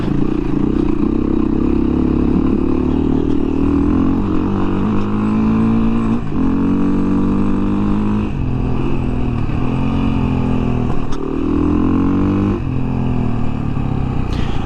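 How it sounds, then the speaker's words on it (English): A 2017 Beta 500 RR-S dirt bike with its stock exhaust runs close by, the single-cylinder engine rising and falling through repeated revs and throttle blips, steady and loud throughout with no talk. "It also has a really nice tone, a really nice sound to it. The stock exhaust is very nice"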